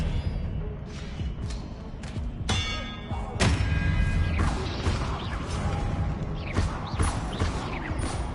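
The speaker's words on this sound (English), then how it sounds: "Expelliarmus!" Spell-casting effects from a Hogwarts wizarding video game for the Expelliarmus disarming charm: sharp cracking bursts and clangs, a bright chiming ring, and thuds layered over a dense, busy game soundscape.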